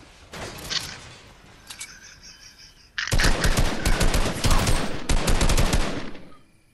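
Fortnite gunfire: short bursts of rapid, loud automatic shots. Faint rattles come first, then a heavy continuous burst starts midway and keeps going, with no talk over it.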